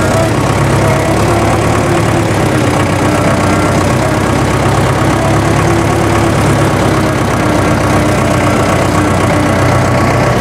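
A restored MTZ tractor engine idles steadily, a loud, continuous low mechanical rumble with a faint knocking texture that holds an even level throughout, with no talking.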